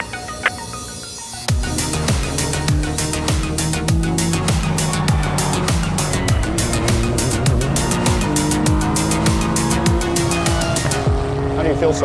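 An Acura race car at speed on a track, its engine wailing through repeated upshifts with rising and falling pitch, loud and close as if from onboard.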